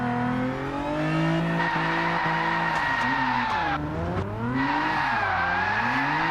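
A car in Gran Turismo 7 spins through donuts, its tires squealing loudly and continuously while the engine revs rise and fall with each rotation, close and steady throughout.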